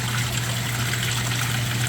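A small water pump recirculates water in a hydroponic tank, giving a steady, close, unbroken trickling and gurgling churn with a low motor hum beneath it.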